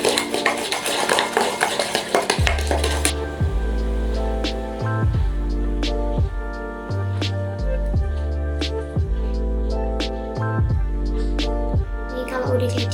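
A spoon whisks dalgona coffee by hand in a glass or bowl, steady rhythmic clinking and scraping strokes repeating close up for many seconds.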